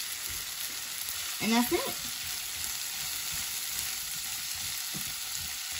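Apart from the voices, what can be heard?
ham sautéing and crisping in a pan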